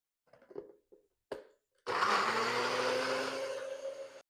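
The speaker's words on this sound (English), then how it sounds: "I'll place the blade on the blender cup and give these a quick whiz." Blender with a blade fitted on its cup giving plums a quick whiz: a couple of soft handling clunks, then a loud, steady motor whir for a few seconds that stops abruptly.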